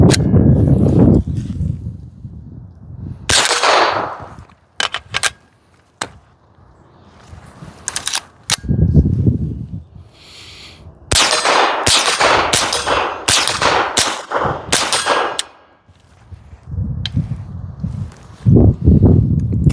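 A CMMG AR .22lr pistol firing on a range, a string of sharp cracking shots in irregular bursts with short pauses between groups, close and loud, interspersed with handling clatter.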